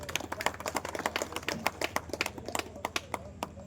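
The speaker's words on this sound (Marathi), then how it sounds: "आपण सर्वांनी टाळ्या वाजवायच्या." An audience claps at a birthday celebration honouring a shelter manager, a dense patter of hand claps running steadily throughout at moderate distance, with faint voices underneath.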